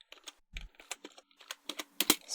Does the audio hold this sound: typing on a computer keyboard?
yes